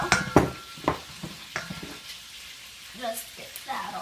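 Plain Greek yogurt mixed with a plastic spatula in a bowl, giving a series of close, wet scraping and plopping strokes, busiest at the start and thinning out toward the end.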